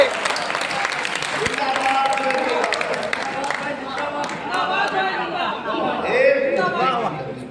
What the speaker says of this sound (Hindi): यार तालियां हो जाए